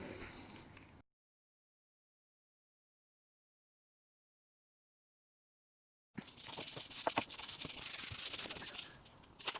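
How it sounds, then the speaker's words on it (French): A Beta RR motorcycle being scrubbed with a brush and cleaning product: a steady, close rubbing and scouring texture starts suddenly after a long silent gap, with a short burst of the same scrubbing at the very beginning. "nous allons remettre du produit et brosser avec la brosse que je vous ai présentée en début de vidéo"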